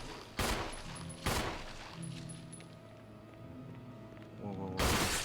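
Gunshots fired at zombies in Resident Evil 1 HD Remaster, three loud sharp blasts spaced a second or more apart, with quieter ambient game sound in between.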